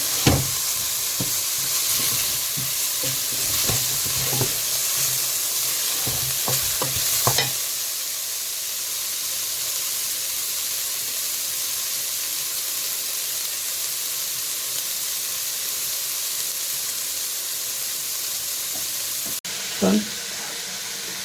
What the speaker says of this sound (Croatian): dodao mrkvu i luk, da se malo preprži